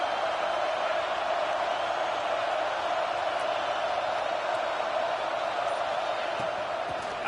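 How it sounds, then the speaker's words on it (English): A stadium crowd roars continuously at a UCLA college football game, with a dense, steady wash of cheering heard from a distance and no breaks. "Listen to this crowd just shaking the girders of this place,"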